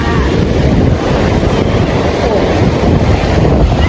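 Sea waves wash steadily onto the shore at Cha-am beach, Thailand, around six in the evening, a continuous loud surf roar with wind buffeting the microphone throughout.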